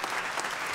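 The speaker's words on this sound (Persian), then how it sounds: "تشویق کنید خانم فصیح رو" Applause from a studio audience during a televised Persian quiz game show, loud, dense clapping filling the whole short moment without pause.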